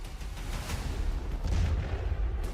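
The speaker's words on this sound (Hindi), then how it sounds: "दूर से एक ड्रोन उड़ते हुए कार्गो शिप के पास आता है और जहाज पर बड़ा धमाका होता है।" Blast of an explosion on a cargo ship hit in a drone strike at sea: a dense, sustained low rumble and roar that swells toward the middle and holds without any voices.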